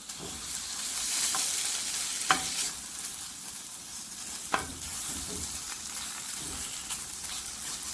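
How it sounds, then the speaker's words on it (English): Pork strips fry in a pan over high heat, a steady close sizzle with occasional sharper pops and crackles as the meat is stirred. "with my pan on high heat, I'm going to go ahead and cook my pork"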